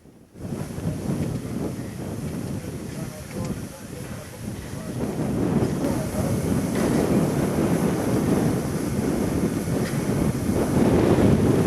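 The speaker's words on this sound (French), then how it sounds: "Un vent froid souffle" Cold wind gusts outdoors in the Harz mountains beside railway tracks, a steady broadband roar buffeting the microphone that swells louder through the second half.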